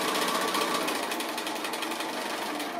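A sewing machine stitches a sail boat pin cushion along a drawn line, a steady, fast, close mechanical whir with a rapid needle rattle, loud and continuous.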